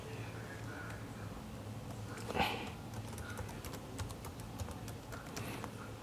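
Computer keyboard keys clack in irregular bursts at moderate volume over a faint hum, with a short louder cluster partway through and quicker taps toward the end.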